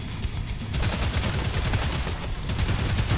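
A submachine gun in the first-person shooter video game Prodeus fires in a dense, continuous rapid burst, loud and close, lasting about three seconds without speech.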